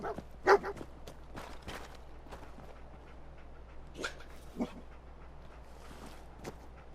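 A dog in the video game Fallout 4 gives a few faint, brief whimpers and a short bark over a steady low background hum, with no talking.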